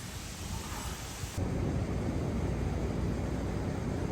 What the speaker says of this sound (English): Ooh, we got a storm coming in, Lester.